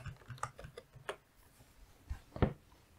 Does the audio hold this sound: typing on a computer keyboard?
yes